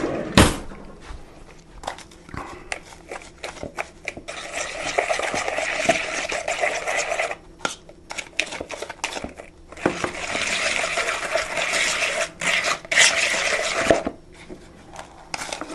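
Fork mixing a crumbly mixture in a bowl while cooking Thanksgiving dinner, giving repeated close scraping and tapping strokes in irregular bursts with short pauses.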